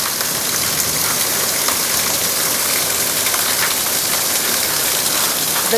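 Heavy summer rain pours down in Rajahmundry in a steady, dense hiss of water, continuous and loud throughout, with no voices.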